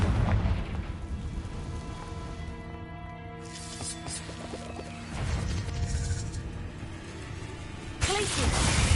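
Confringo blasting-curse explosions go off in Hogwarts Legacy combat, with crashing booms breaking out near the middle and again at the end over a sustained tonal game backdrop with talk.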